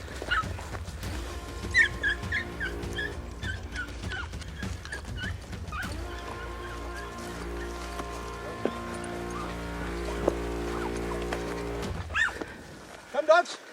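Hunting dogs on a buffalo and plains game hunt give scattered yips and whimpers at close range, mixed in with people talking and calling out, plus a steady low rumble underneath.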